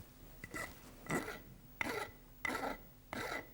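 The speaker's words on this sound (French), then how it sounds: "il faut que je lime pour ajuster le biseau correctement au pied pour pouvoir souder" A hand file rasps against the metal languid of an organ pipe while it is fitted to the pipe foot, five short separate strokes at a steady pace, close but quiet.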